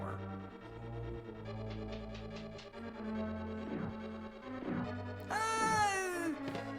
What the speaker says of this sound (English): You got a kitty?